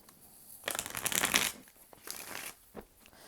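A Halloween tarot deck is shuffled by hand, giving two quick riffling bursts of card flutter followed by a soft tap, close and fairly quiet with no talking.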